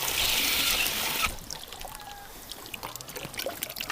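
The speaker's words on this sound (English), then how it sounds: "let's get the duck some water here" Water is poured for a duck: a steady rushing pour for just over a second, then it stops abruptly and leaves quiet room noise.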